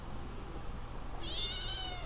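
A house cat gives a single drawn-out meow, close and clear, rising above a steady low background hum near the end.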